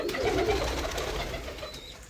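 Several pigeons coo close by outside, soft overlapping calls with a low rumbling hum beneath, over steady background noise.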